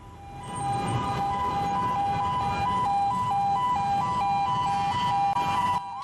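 An ambulance siren wails steadily at close range, trapped in a total traffic jam on a Jakarta bus lane on a Monday afternoon, with a low rumble of road traffic under its continuous tone.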